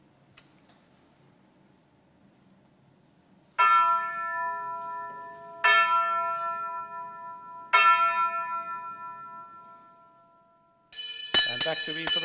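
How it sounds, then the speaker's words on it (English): The SAGIC bell is rung to close a convention: three clear, ringing strikes spaced about two seconds apart, each decaying slowly, then a burst of brighter, rapid clanging at the end, following a quiet murmur of talk. "we now ask Anna-Marie to ring the SAGIC bell, followed by the SANA bell to close this convention."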